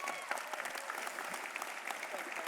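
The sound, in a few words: round of applause from audience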